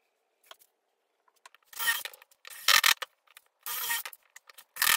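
Wooden piece being fastened onto a homemade wooden boot jack, with several bursts of drill or screwdriver whirring and ratcheting separated by small taps and handling clatter, close and fairly loud.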